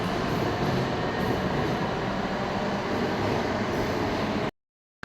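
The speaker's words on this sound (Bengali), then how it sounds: "জাস্ট কিছুক্ষণের জন্য একটা মেট্রো মিস হয়ে গেল দেখতেই পেলে তো" A metro train pulls out of Kavi Subhash station in Kolkata, a loud, steady rumble and rail roar filling the platform for several seconds before cutting off abruptly.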